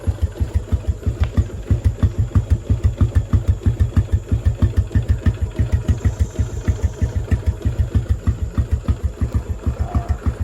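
A Yamaha Jupiter MX motorcycle engine fitted with a Suzuki Satria FU exhaust idles with a loud, deep, rapid exhaust burble, steady pulsing throughout, recorded close with no talking.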